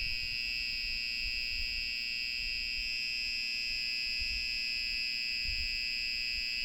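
An alarm sounds during an electric scooter battery test, a continuous steady buzzing tone that holds throughout, with low hum underneath and no speech.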